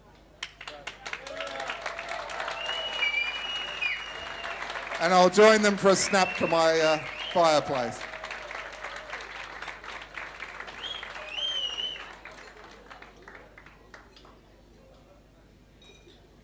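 Audience at an awards ceremony applauds joint winners, with a burst of clapping swelling mid-way and fading, under and around someone talking, with light glass clinks in the room.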